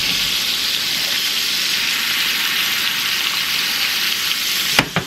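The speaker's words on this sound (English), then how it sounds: "we're just going to bathe the steak, if you will, in this butter" A steak sears in melted butter in a cast iron pan, giving a loud, steady sizzle and crackle throughout, with a couple of sharp clanks right at the end.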